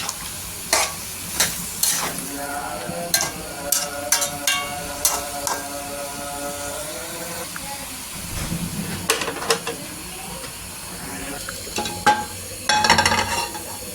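Flat beans fry in a pan on a home kitchen stove, a steady hiss and sizzle broken by repeated scraping and knocking of a utensil stirring them, close and fairly loud with no talking.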